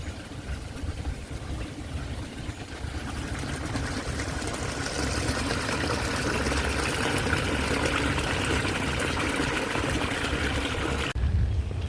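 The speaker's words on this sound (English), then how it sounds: "It flows right underneath where I'm standing and then continues out this way." Water flowing in a stream that runs beneath a fish hatchery on its way down to a river, a steady, broad rushing wash heard close and continuous, with a brief shift near the end.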